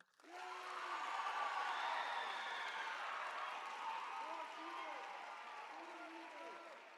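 A large crowd of first-day campers at a Bands of America summer camp opening session breaks into sustained applause, with cheers and whoops rising through the clapping before it gradually eases.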